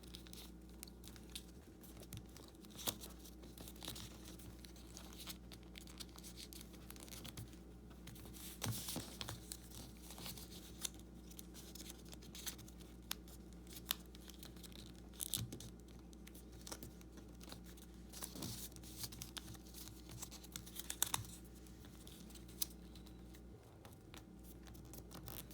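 Paper gets creased and folded by hand while making origami models, close soft crinkles and sharp little creasing snaps scattered through a long, quiet stretch of faint room hiss.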